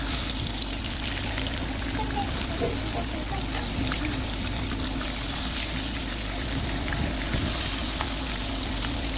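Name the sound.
prawns frying in a pan for prawn curry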